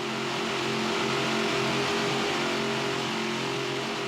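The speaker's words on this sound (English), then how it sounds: "525 horsepower motors propelling this 38-foot Fountain to speeds well over 100 miles per hour" Twin fuel-injected 525 horsepower motors on a 38-foot Fountain offshore powerboat racing at over 100 mph in a Super Boat Grand Prix, a loud, steady high-revving engine roar sustained throughout.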